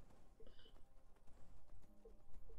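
Horse hooves clop steadily while riding in Skyrim, a quick rhythmic clip-clop under dense game ambience and wind, with a brief whinny-like tone mixed in.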